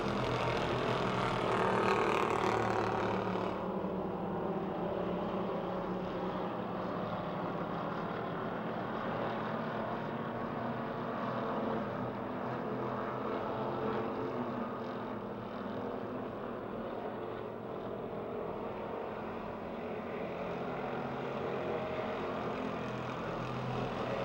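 Race cars roar around Pennsylvania Motor Speedway in a continuous, loud engine drone that swells at the start and then holds fairly steady for over twenty seconds.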